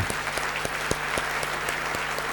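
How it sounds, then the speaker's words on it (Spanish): Audience applause for professors at the CICEM 2019 conference: sustained clapping from a hall, with several sharp, loud claps close by standing out above the steady crowd wash. "Un gran aplauso para todos ellos."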